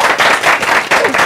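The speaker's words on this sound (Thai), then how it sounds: "เราปรบมือให้กับแพลนนั้นดีมั้ยครับ" Audience at a GOT7 promotional event clapping together, a dense, steady patter of many hands filling the room at close range.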